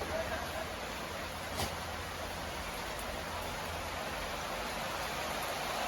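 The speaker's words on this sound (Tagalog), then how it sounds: "Walang tigil ang ulan, oh." Heavy storm rain pours without pause in a dense, even hiss that fills the whole stretch, steady and close with no breaks.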